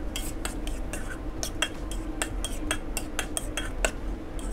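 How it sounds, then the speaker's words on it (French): Utensil stirring a small vegetable garnish into vinaigrette for scallops with beetroot, a steady run of sharp clinks and scrapes against a dish, close and fairly loud, no voices. "on va venir mettre à l'intérieur de la vinaigrette notre petite garniture de légumes. On va bien mélanger."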